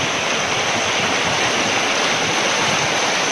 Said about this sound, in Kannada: ಕುಮದ್ವತಿ ಹಾಗೂ ಧರ್ಮಾ ನದಿಗಳು ಅಪಾಯ ಮಟ್ಟ ಮೀರಿ ಹರಿತಾ ಇದ್ದು